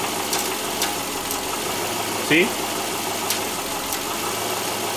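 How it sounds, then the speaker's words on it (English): A 2009 Subaru Forester engine idles steadily and close up, with a brief shift in RPM partway through as the variable valve timing system is energized. A short spoken word sits over the even engine drone. "The engine RPM changes, which is normal."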